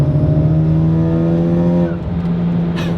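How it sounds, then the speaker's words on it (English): Honda Civic Type R with a big turbo and HKS catback exhaust, a loud, close steady engine drone that drops as the throttle lifts for a gear change, followed by a brief breathy puff of released pressure. "It's like this little tiny achoo every time you let off the gas."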